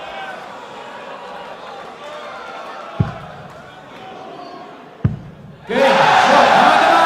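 At a Dutch Darts Masters match, a home crowd bursts into loud cheering for Vincent van der Voort's win, following quieter arena murmur and two sharp thuds, with commentary spoken over it.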